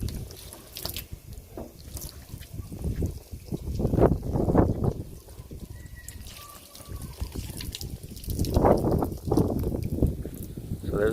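A garden hose sprays water onto a ceramic-coated car, a continuous hiss and patter that swells and fades as the stream moves across the body panels.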